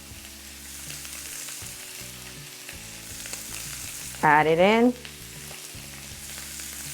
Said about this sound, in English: Yes, that sizzle, you want to hear it, okay?